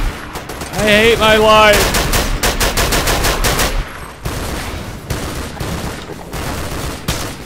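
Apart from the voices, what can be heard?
enemy gunfire in video game Half-Life 2 Episode One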